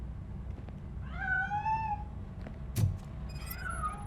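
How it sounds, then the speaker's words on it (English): A cat in the RoboCop: Rogue City video game gives two drawn-out meows, the second higher and shorter, with a sharp click between them over a low game background hum and no speech. "That cat must be hiding inside. Let me lure it out."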